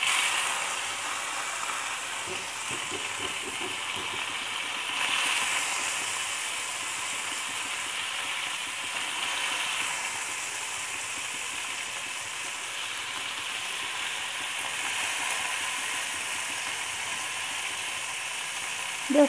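Paneer sizzles steadily on a hot tawa, a continuous bright hiss with soft clicking crackles throughout and a brief clatter at the end.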